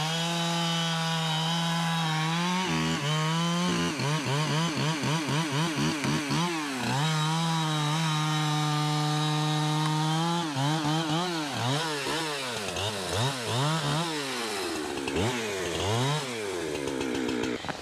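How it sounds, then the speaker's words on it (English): A Husqvarna 372 chainsaw runs loud and close for the whole stretch, its engine revving up and down as it bites through logs. "What kind of chainsaw is that? Husqvarna,"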